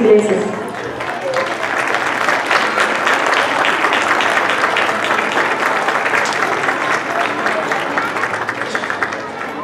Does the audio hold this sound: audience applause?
yes